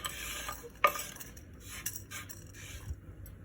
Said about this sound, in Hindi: एक पैन में रखिए और इनको थोड़ा सा रोस्ट कर लीजिए